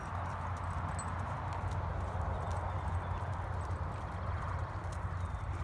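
A horse trotting in a riding lesson, steady hoof clip-clops over a constant low hum, fairly close and even in rhythm throughout.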